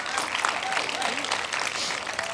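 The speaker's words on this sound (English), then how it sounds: "I just wanted another round of applause actually for Danis for this film tonight." Audience applause for a film at a festival opening-gala screening and Q&A: steady, dense clapping from a crowd filling the whole clip, with a voice speaking faintly over it.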